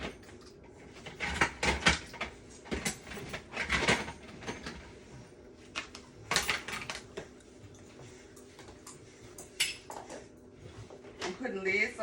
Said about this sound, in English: I'm putting lids over my vegetables.